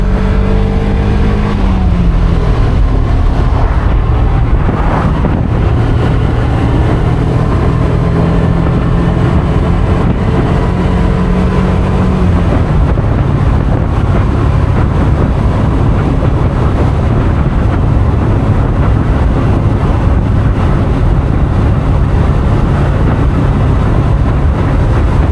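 A Mazda Miata driving over rough, bumpy road, its cabin filled with a steady low rumble of engine and road noise that shifts partway through, with no talking.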